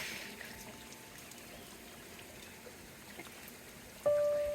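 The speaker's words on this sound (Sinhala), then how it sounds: "අපේ සුපුරුදු දිය උල්පත" A small mountain spring on a Knuckles range trail gives a faint, steady trickle and patter of running water close by, with a brief high tone near the end.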